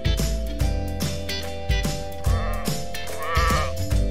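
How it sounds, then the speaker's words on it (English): A sheep bleats repeatedly in short, wavering calls set over a bouncy children's music track with a steady beat, the bleats loud and rhythmic within the song. "Sheep."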